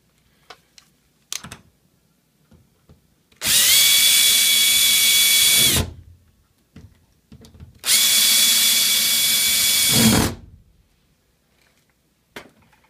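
A power drill drives screws into a door lock in two loud sustained whirring bursts of about two seconds each, separated by quiet handling clicks and taps.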